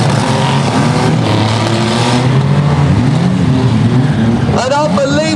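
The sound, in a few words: demolition derby car engine restarting and revving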